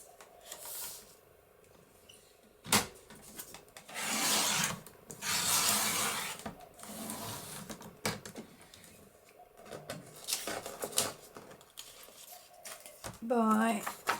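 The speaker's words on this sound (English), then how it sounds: "So I'm cutting these down." Cream paper sheets being trimmed down to 7 1/4 by 10 1/4 inches, with dry rasping cuts and two louder sustained slicing passes in the middle, a sharp tap early on, and a voice speaking near the end.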